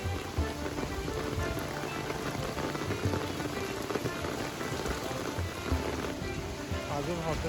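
Monsoon rain in the Matheran market area patters and hisses steadily on surfaces close by, a dense, even wash with scattered louder drops and no voices.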